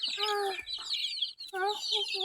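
Backyard pet chickens on a rural farm clucking and squawking in quick, close bursts, continuous and fairly loud, with a brief pause in the middle.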